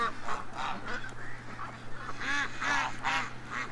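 Several ducks quack and honk in a rapid, overlapping series at close range, with a steady low hum running underneath.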